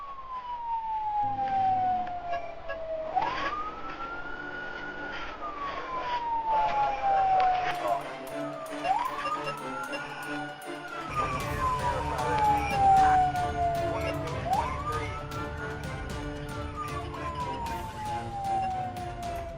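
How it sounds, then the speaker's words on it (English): A police car siren wails in repeated rising and falling sweeps, loud and close, with engine and road noise building underneath during a high-speed chase. "the officer activated his sirens, signaling the start of a high-stakes pursuit"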